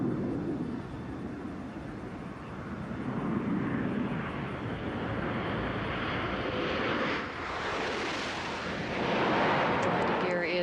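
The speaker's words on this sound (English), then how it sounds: "Down and locked. Main gear touchdown." A space shuttle landing with its main gear touching down: a loud, continuous broadband roar and rumble that swells toward the end, with no voices.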